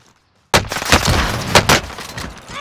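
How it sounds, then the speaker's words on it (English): Gunfire in Call of Duty Modern Warfare, a sudden burst of loud close shots after a brief silence, then several more sharp cracks and rattling impacts in an irregular rhythm. "Oh, getting shot from behind."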